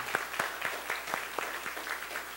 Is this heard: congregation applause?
yes